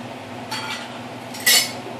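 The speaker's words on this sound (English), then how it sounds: "Spoon, scoop out half of this." A metal spoon scrapes and clinks inside a can while scooping out frozen orange juice concentrate, two short clattering scoops with the second louder.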